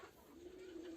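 A single soft, low coo from a giribaz pigeon in a loft, faint and close, with no other sounds.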